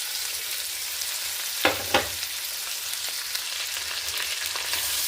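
Ivy gourd pieces frying in hot oil with onions and green chilies, a continuous bright sizzle with two sharp crackling bursts early on, close and alone.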